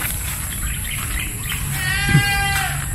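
A goat bleats once in the background in a backyard, a wavering cry rising over steady outdoor noise and a low rumble; no one speaks.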